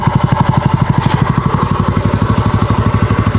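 A repaired TVS NTorq 125 scooter engine runs at a steady idle, close and loud, with an even, rapid pulsing beat and no other sounds.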